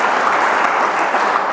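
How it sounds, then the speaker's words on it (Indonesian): A congregation breaks into lively applause for God during a church sermon, a thick steady roar of many hands, loud and close, with no break. "Tepuk tangan yang meriah bagi Tuhan kita."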